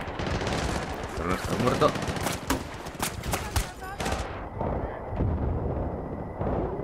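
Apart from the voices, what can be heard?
machine gun fire in video game Battlefield Bad Company 2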